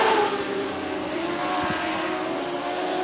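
Dwarf race cars roar down the front straightaway out of turn four, a sustained engine drone with rising revs that passes at moderate distance.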